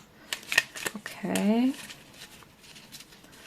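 A deck of tarot cards is shuffled nearby in quick riffling, flapping bursts, with a person speaking briefly.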